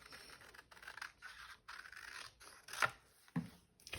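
Scissors snip through craft material, close and quiet, in a few separate cuts with short pauses between them, ending with a couple of sharper scraping snips.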